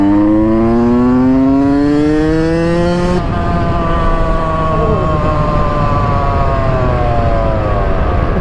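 A two-stroke dirt bike engine screams loud and close, pitch climbing steadily through a long rev, then it drops briefly at a gear change before pulling again at high revs.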